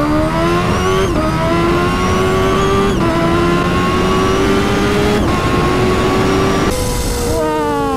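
A Kawasaki Ninja H2 or 2021 Suzuki Hayabusa sport motorcycle screams hard in first gear, its engine pitch climbing and dipping at several shifts or traction-control cuts, loud and close throughout.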